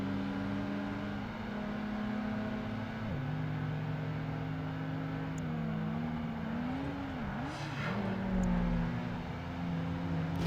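A Honda S2000 sports convertible races in Project Gotham Racing 2, its engine note rising and falling through gear changes and revs, a continuous, fairly loud synthesized game engine tone with no talking.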